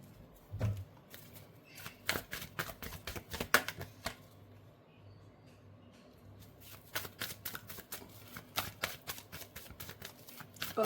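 Tarot cards are shuffled by hand in quick bursts of crisp riffling flutters, close and clear, with a short quiet pause in the middle before the rapid shuffling resumes.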